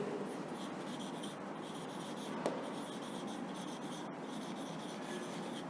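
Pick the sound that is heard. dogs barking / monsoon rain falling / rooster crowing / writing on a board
writing on a board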